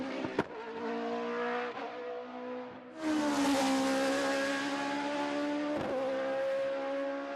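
A GT race car laps the Baku street circuit, its engine note whining and climbing through gears, surging louder after a shift midway and passing fairly near, with no talk.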